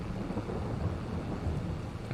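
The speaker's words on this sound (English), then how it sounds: "it's just started to rain" Heavy rain falls steadily on Silverrun Forest Farm, a soft, continuous hiss at moderate distance with a faint low rumble underneath.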